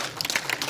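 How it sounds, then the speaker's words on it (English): Brief burst of congregational applause during a church talk, a handful of distinct close claps standing out against the general patter. "Let's give the Lord a big round of applause"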